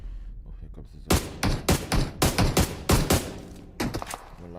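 Gunfire in a video game, a burst of about eight sharp, evenly spaced shots followed by a short pause and a few more quieter rounds, loud and close.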